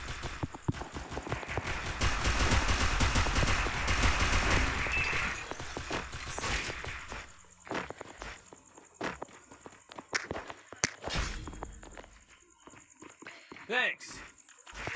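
Shooter video game gunfire: a dense burst of rapid automatic shots that gives way to scattered single cracks and footsteps, with a voice talking over it.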